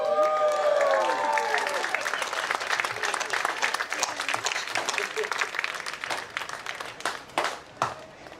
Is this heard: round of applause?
yes